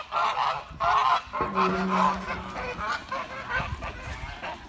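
Several domestic geese, including an old gander and a young white goose, honk repeatedly nearby at a stream, loud nasal calls overlapping in bursts, with softer clucking between.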